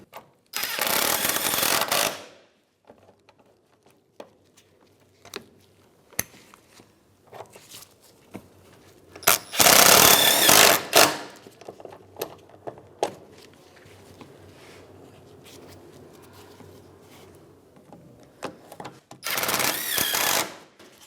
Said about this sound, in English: now we can start reinstalling our 10mm bolts